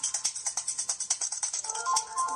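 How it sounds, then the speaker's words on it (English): A phone ringtone plays as a quick, rhythmic repeating electronic pattern, moderately faint, changing to a different tone near the end, with no speech over it. "Let that phone ring."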